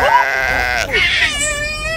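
A goat bleats close by, one wavering, nasal cry that breaks and then rises into a second sustained, trembling call.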